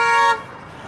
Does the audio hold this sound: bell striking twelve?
no